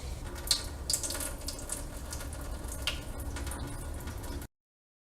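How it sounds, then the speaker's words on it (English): Sprouting seeds are rinsed with running water, a close, steady splashing and trickling from a tap, with a few sharp drips and small clinks, then an abrupt cutoff to silence. "we're going to rinse them, and we're going to do the same thing again"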